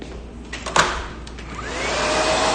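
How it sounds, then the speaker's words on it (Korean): A steady whooshing roar of a hair dryer drying freshly permed bob-length hair rises and holds, with a few short clicks and knocks near the start. "그럼 이제 드라이기 살짝 말려보면"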